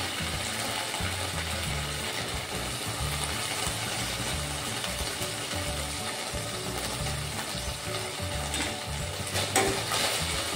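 Dragon Chicken stir-fries in a hot pan after dark soy sauce goes in, giving a continuous close sizzle with scraping and tossing clatter of the spatula throughout, no voices.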